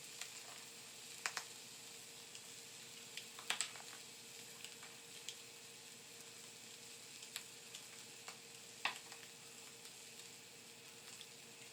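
Sausages frying in a pan, a steady soft sizzle and crackle running throughout, with occasional sharper pops and utensil clicks over the even hiss.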